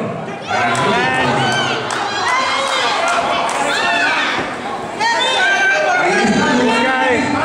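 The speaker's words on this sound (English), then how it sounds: "And the crowd really giving it to him" A wrestling crowd at a T-N-T event roars and jeers at a wrestler in a loud, continuous wash of shouting and whistles that dips once and swells again, with commentators talking over it.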